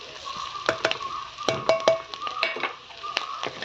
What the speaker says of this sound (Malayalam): ഉള്ളിയൊക്കെ വഴണ്ട് വന്നതിൻ്റെ അകത്തോട്ട് നമ്മൾ കക്കയുടെ ഇറച്ചി ഇട്ട് കൊടുത്തു. നന്നായിട്ട് ഇളക്കി എടുക്കാം.